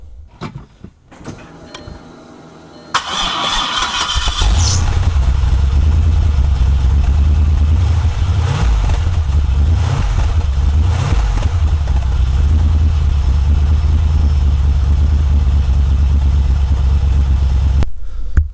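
A car engine with a new muffler cranks and catches at about three seconds, then settles into a loud, steady, deep idle with a muffled exhaust rumble that runs until near the end.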